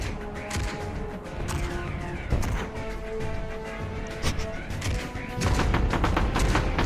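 Gunfire in a game's combat skirmish practice: dense, continuous bursts of rapid shots and overlapping cracks, loud and sustained throughout, with no pauses.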